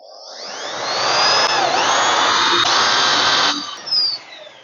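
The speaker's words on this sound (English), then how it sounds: "That is the hole drilled." A drill with a 35mm hinge cutter bores a concealed cabinet hinge hole, a close, loud whining roar that rises as the bit spins up, holds steady for a few seconds and then winds down.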